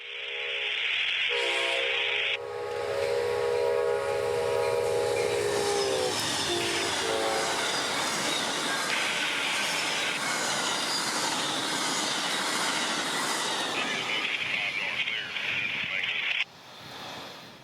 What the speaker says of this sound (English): I'd catch him departing Tampa with the full head of steam now